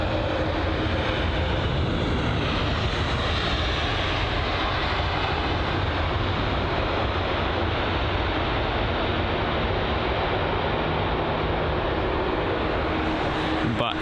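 A Boeing 787 airliner touches down at London Heathrow with a continuous, even jet roar and rumble lasting throughout, moderately loud and heard alone.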